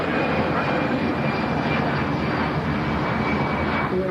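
Airbus A320 jet engines at Manchester airport, heard as a loud, steady, broadband roar that holds level without a break for the whole stretch.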